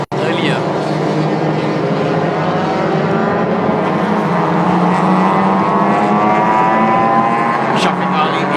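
Race cars lap the Sepang circuit during a 1000km endurance race, engines droning and shifting pitch as they pass, loud and continuous beneath steady commentary.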